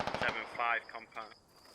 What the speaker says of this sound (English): Some AR fire going out to support, I think.